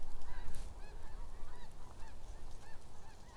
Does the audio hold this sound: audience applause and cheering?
no